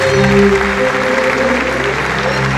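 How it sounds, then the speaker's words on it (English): An audience at a Samsung IFA 2012 product presentation applauds a magician, brief dense clapping with steady tonal music underneath throughout. "could we also have a big round of applause for our magic man, Topaz?"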